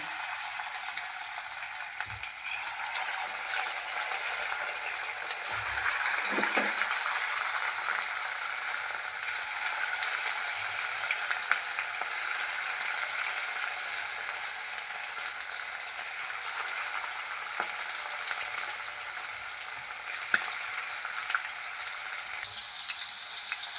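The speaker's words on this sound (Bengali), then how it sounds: "আমার তেলটা গরম হয়ে গেছে করার আমি এবার একটা একটা করে চিকেনগুলো ভেজে নেব" Continuous moderate sizzle of chicken pieces frying in hot oil, steady throughout with a few faint knocks and clinks, no talking.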